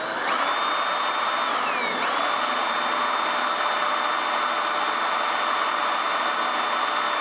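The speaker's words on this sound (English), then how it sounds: "So we're going to drill through here." An electric drill whines steadily as it bores holes for mounting a white-tail deer's antlers, its pitch dipping once under load early on, then holding a loud, even tone.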